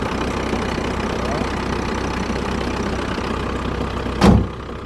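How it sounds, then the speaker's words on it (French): A warm camper van engine idles with a steady low rumble throughout, then a short louder burst near the end as it is switched off or revved. "Je vais éteindre le moteur pour qu'on m'entende mieux."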